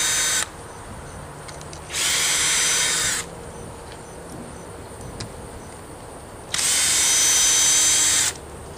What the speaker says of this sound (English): now we're just going to take these screws out